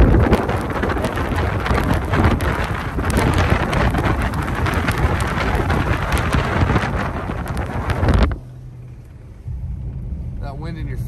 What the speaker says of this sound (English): That wind in your face is pretty crazy, huh, guys?